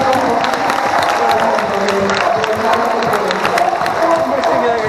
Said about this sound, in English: Give off a huge round of applause.